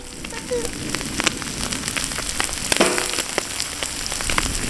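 Dry fish with masala fries in hot oil, giving a steady, dense crackle and sizzle with scattered sharp pops throughout, close and fairly loud.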